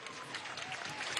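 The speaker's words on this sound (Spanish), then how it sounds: "Vamos a darle un aplauso al sistema Simón Bolívar." Brief, dense applause from a large crowd at a youth day rally for the Simón Bolívar youth orchestra system, a steady wash of many hands clapping at a distance.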